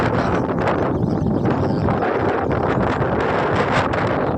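Steady wind blowing outdoors across an open field of flowering crops, a continuous broadband rush buffeting the microphone for the whole stretch with no talk.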